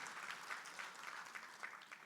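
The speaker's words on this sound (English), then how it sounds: "Let's give a very big round of applause." Applause from the audience at a provincial G20 education indaba, steady and moderately distant clapping that continues throughout the short stretch with no voices on top.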